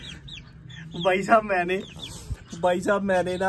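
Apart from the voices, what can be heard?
hen clucking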